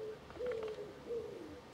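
Wood pigeons coo softly in the distance in a Norfolk village near Haddiscoe, a low, muffled few-note call heard faintly over outdoor background noise.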